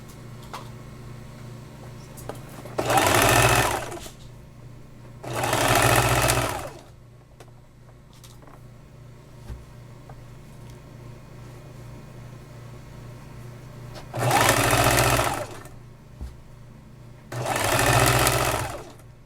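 A sewing machine backstitches apron pockets in four brief, close bursts of fast whirring stitching, two near the start and two near the end, with quiet gaps between.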